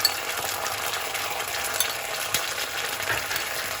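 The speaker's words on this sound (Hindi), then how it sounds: "अदरक लहसुन भी अच्छे से भून गया है।" Ginger-garlic paste is fried with golden onions in a pan, sending up a steady, close sizzle with faint stirring scrapes throughout and no voices.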